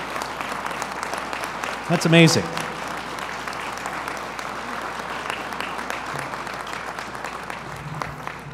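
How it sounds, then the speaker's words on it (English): Applause from an audience at a city business appreciation event rises briefly and fades, with steady speech and crowd murmur continuing underneath. "Give them a round of applause"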